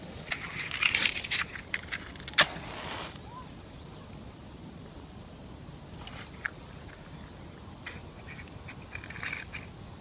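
An outdoor campfire crackles as it burns, with faint, sparse snaps and pops scattered over a low hiss, a few sharper cracks standing out near the start.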